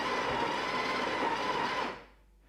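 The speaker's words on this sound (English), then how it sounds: "And the machine is going to grind a little bit more coffee." A Sage Barista Touch Impress espresso machine grinding a little more coffee, a steady high buzzing whir up close that winds down and cuts off after about two seconds.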